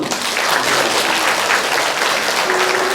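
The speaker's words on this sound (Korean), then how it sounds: "여러분들은 박수로 축하해 주시면" A church congregation applauding a baptism, dense sustained clapping from many hands filling the room, loud and steady throughout.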